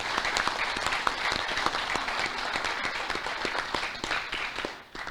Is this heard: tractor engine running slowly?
no